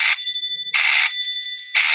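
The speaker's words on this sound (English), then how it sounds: "Many major industries use piezo buzzer as audible detection or warning." A piezo buzzer sounds three sharp, high-pitched electronic beeps, each lasting a fraction of a second with pauses between them. The beeps are loud and clear with no voices.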